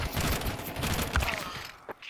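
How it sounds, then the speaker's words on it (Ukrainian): Burst-fire gunshots from the Counter-Strike 2 video game rattle in a dense, continuous barrage, loud and close, ending with one more sharp shot after a brief dip. "Мені здалося, що він тут з бюрстом стріляв"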